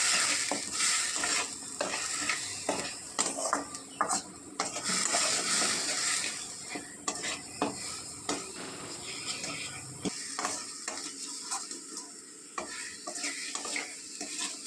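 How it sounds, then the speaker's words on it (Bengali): Dry spices fry with onion, garlic and ginger paste in a pan, a moderate sizzle broken by frequent spoon scrapes and clinks against the metal, easing off toward the end. "এই পেঁয়াজ, রসুন, আদা পেস্টের সাথে এই শুকনো মশলাগুলোকেও খুব ভালো করে আমি ভেজে নেব।"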